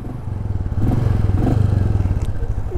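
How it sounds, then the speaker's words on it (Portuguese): A Royal Enfield Meteor 350 motorcycle engine thumps close by in a rapid, even pulsing beat, with the revs rising slightly partway through. "Ronco legal do motor."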